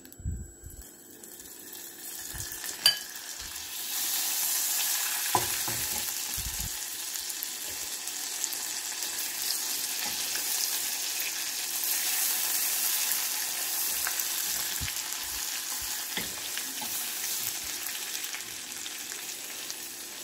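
Butter sizzles as it melts into hot caramel in a pan for an egg-free caramel chocolate dessert, a steady moderate frying hiss with occasional soft clicks and pops, heard alone for about twenty seconds.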